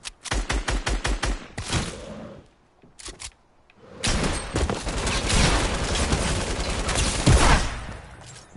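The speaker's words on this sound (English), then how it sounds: "You're using a combat SMG." Rapid automatic bursts of combat SMG gunfire in a video game, with a quick rattling volley at the start, a short pause, then a long sustained loud stream of shots.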